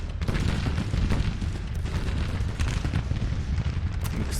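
Civil War cannon artillery in Grand Tactician rumbles as a dense, continuous barrage of booms and bursts, loud and layered, with distant and nearer blasts blending into a sustained roar.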